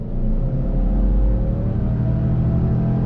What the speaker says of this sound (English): All right, guys, we're gonna do another acceleration test.